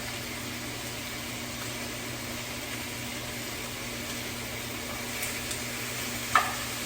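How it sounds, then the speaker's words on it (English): Beef stew meat browning in oil over medium heat, a steady hissing sizzle that runs on evenly under a faint hum, with a few small pops and clicks near the end and no voices. "it's just going to sizzle a lot until it eats it up"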